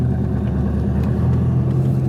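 A BMW Z3 with a swapped LS1 V8 rumbles while driving, a loud, steady, deep engine drone that holds constant with no talking.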